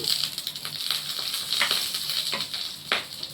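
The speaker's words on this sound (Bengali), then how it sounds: "ডিম পেঁয়াজের বেরেস্তাটা আমি আগে ভেজে নিচ্ছি।" Sliced onions frying in oil for egg biryani birista give a steady, bright sizzle with several louder spitting bursts and occasional stirring, fairly close and without any talk.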